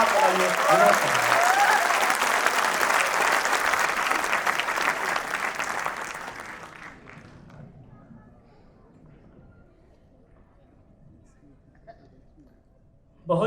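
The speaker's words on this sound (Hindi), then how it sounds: "बहुत जोरदार तालियां रहीं" Loud, dense applause from the audience at a Hindi comedy poetry gathering in Delhi, sustained for several seconds before fading out and leaving a quiet hall.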